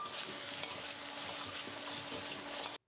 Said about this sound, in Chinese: 下入葱姜蒜，扒拉几下子